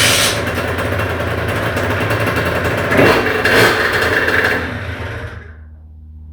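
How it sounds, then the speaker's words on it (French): A Honda HM motorcycle engine runs with a steady buzzing drone that rises briefly, then cuts off and falls to near silence near the end, loud and close. "on va démarrer la moto"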